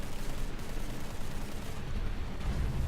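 Aircraft guns strafe a destroyer during a War Thunder naval battle, producing a continuous rattling stream of gunfire mixed with low booms and rumble, steady and moderately loud throughout.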